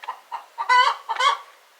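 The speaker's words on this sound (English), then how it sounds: "there's actually a chicken in a nesting box right now," Hen clucking from inside a nesting box, a series of short, rising calls with two louder, drawn-out squawks in the middle, close and alone.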